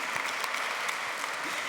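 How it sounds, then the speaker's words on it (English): A conference audience applauds a panelist, dense and steady clapping from many hands filling a large hall, moderately loud and unbroken. "this is your applause"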